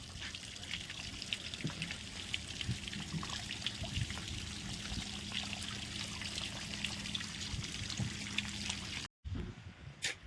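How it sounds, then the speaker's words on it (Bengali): Water trickles and pours steadily off a loaded truck stuck on the Kolkata–Durgapur highway, a soft continuous splashing with no voices, briefly cut near the end. "সব পানিটা ওই দিক দিয়ে পড়ছে, দেখো দেখতে পাচ্ছ, পুরো পানি পড়ছে একবারে"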